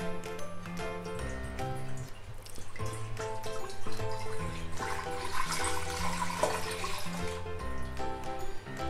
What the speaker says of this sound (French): Mettre donc le lait.